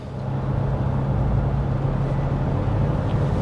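Cabin-heard engine of a 2024 Ford Expedition Max Platinum with a 10-speed automatic, pulling under throttle: a steady, loud low drone with road rumble that holds evenly throughout, no voices.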